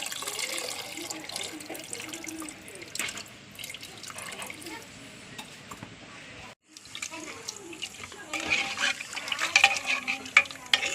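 Tamarind water squeezed and poured for sambar, heard as continuous close watery splashing and trickling with a brief gap midway, then livelier sloshing and drips.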